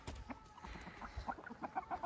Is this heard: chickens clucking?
yes